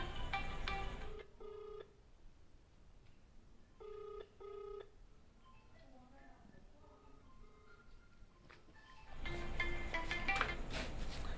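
A telephone rings in repeated electronic bursts with quiet gaps between them, alongside softer background sounds, before louder noise takes over at the end.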